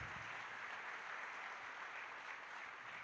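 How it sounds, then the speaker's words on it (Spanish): A church congregation applauds to welcome first-time visitors, a steady, dense wash of clapping that holds evenly for about three seconds. "¿Le damos un aplauso a los que están por primera vez?"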